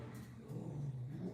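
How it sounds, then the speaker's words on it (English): A garbage truck's heavy engine rumbles steadily nearby, swelling slightly louder midway as it moves past, with no voices. "that's a garbage truck"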